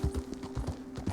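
Horse hooves clip-clop at a steady walking pace in the Red Dead Redemption II video game, close and fairly loud, with a low steady tone beneath.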